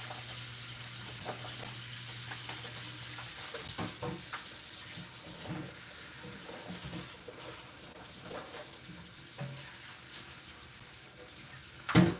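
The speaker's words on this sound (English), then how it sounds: "Let's wash off our mushrooms and vegetables." A kitchen tap runs steadily into the sink while mushrooms and vegetables are rinsed, a soft continuous hiss of water with faint splashes and handling noises, ending in a short louder clatter.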